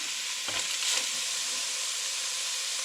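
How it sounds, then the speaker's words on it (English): Sausage browning in a pan, a continuous bright hiss of sizzling fat with a brief scrape of stirring near the start, close and steady with no talking. "now that our sausage is mostly browned up"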